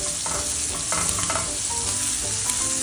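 Pasture eggs fry in Kerrygold Irish butter with a loud, continuous sizzling hiss close up. Irregular spattering pops run through it, and no one speaks.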